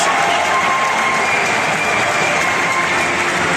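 A large stadium crowd at a Premier League match between Everton and Newcastle United roars and applauds continuously, a dense wall of cheering and clapping that fills the space without letting up.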